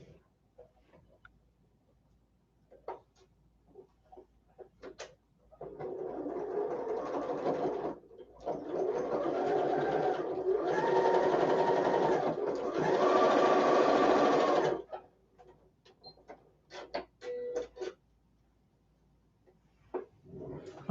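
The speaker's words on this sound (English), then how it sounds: "Then I use that pin to pin here, nest that seam, and then sew off the end." A sewing machine stitching a quilt seam runs in a short start, then a long loud steady burst of fast whirring stitches. Quiet handling noises and light clicks come before and after.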